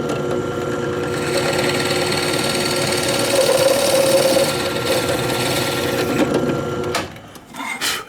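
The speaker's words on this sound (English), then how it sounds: "The two bottom stretchers, I have a 3/4 inch bit in the drill press." A drill press with a 3/4 inch bit counterboring bolt holes in wooden bottom stretchers for furniture, a steady, loud mechanical whir that runs continuously, then winds down and stutters near the end.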